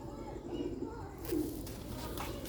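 Pigeons of a breeding stock cooing, two soft low coos close by against a quiet hissy background, with no speech over them.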